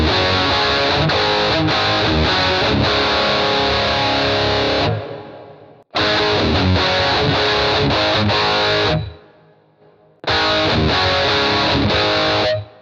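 Distorted electric guitar through a Boss GT-1000 ducking reverb with pre-delay, three loud bursts of driven rhythmic chords, each stopping abruptly so a short reverb tail blooms and fades into the gaps before playing resumes.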